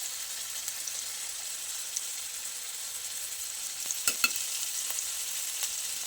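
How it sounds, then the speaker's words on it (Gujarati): Garlic and ginger sautéing in hot oil over a low-to-medium gas flame: a steady, soft frying hiss with a few brief clicks of a utensil against the pan near the end. "આદુ અને લસણને સરસ રીતે સાંતળી લેવાનું છે"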